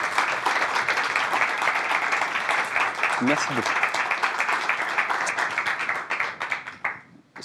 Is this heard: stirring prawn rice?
no